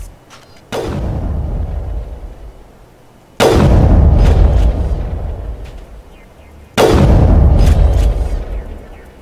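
Three heavy explosive gunfire blasts in Mass Effect, each a loud sudden boom with a long rumbling decay, evenly spaced a few seconds apart.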